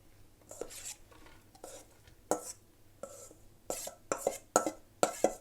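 Carrots and onions tipped into a cooking pan make a quiet series of irregular knocks and clatters, sharper sounds of vegetables and utensil hitting the pan, close by with no talk.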